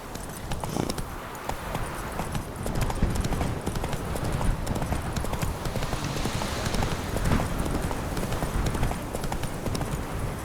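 Horse galloping in The Witcher III video game, rapid rhythmic hoofbeats clip-clopping steadily throughout at close range, with faint game ambience underneath.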